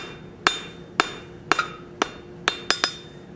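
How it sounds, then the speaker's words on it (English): Seven sharp hammer blows ring out on hot steel at an uneven pace while forging a repoussé ball stake, each strike clanging briefly with a faint steady hum beneath. "we're going to hammer off the facets of those square corners"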